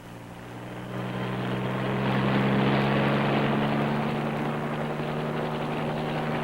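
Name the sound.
wire-laying marine helicopter in flight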